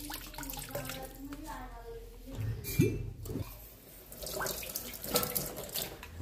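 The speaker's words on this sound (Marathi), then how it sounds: "याच्यावर आता थोडं थंड पाणी सोडूया आपण।" Cold tap water poured over freshly made paneer curdled from milk with yogurt, splashing and running in uneven bursts close by, with a clink and someone talking over it.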